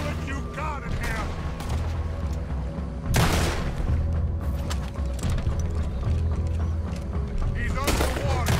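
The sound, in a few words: gunfire in the video game Red Dead Redemption 2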